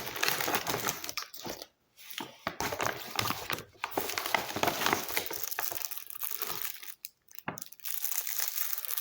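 Crackling, crinkling plastic from a military ration packet being worked open with a pocket knife, close and busy, with bursts of rustling broken by a few brief pauses.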